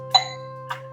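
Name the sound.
doorbell single ding from rear push button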